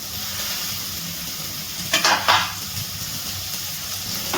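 Capsicum is stirred with spices in a frying pan for chicken keema masala: a constant close sizzle, broken by two quick scraping stirs of the spatula.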